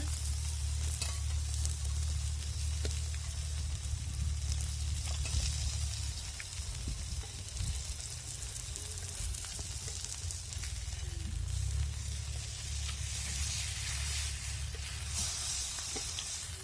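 Pumpkin flatbread (bhoplyache dhapate) fries in oil in a pan, giving an unbroken, even sizzle and hiss with occasional faint crackles, close and steady for the whole stretch.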